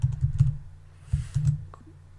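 Keystrokes on a computer keyboard while entering a web address, a handful of close, soft taps in two short bursts with a pause between them, no talking.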